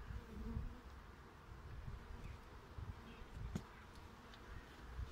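Honeybees buzzing in a dense, steady drone while a hive is opened and inspected in early spring after winter, close but fairly soft, with occasional faint rustles and knocks.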